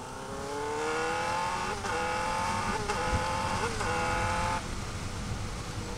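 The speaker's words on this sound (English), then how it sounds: "Throttle blipping. I know I'm in second. I'm gonna accelerate." Car accelerating in second gear after a throttle-blip downshift, a steady rising engine note with brief dips at gear shifts, moderately loud and continuous with no voices over it.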